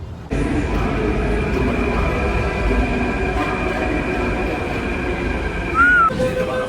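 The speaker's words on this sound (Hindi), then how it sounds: "यहाँ पे कश्मीरी गेट में ख़त्म हो जाती है पूरी मेट्रो" A Delhi Metro train pulls in at Kashmere Gate station, a steady loud rumble of wheels and motors filling the platform, with a brief rising squeal near the end as it slows.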